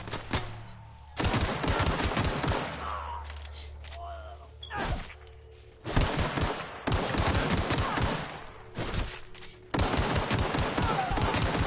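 Bursts of rapid gunfire in The Outer Worlds video game, loud close volleys in several separate runs with short pauses between, and someone talking over the shooting.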